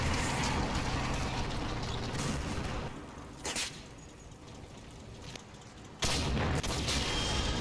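An Achilles tank destroyer fires on a StuG during Operation Epsom in the WWII game Combat Mission, near an orchard. Heavy booming gunfire rumbles in loud rolling bursts, with a brief sharp crack in a quieter stretch before another big blast.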